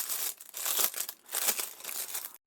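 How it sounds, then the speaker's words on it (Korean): Crinkling of plastic wrap as one end is opened on a skein of yarn for a crochet rattan-style bag. The rustling is close and continuous, swells and fades, and stops abruptly near the end. "겉에 비닐 다 벗기지 마시고 한쪽만 열어서"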